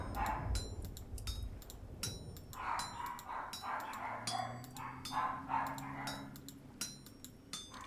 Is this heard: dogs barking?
yes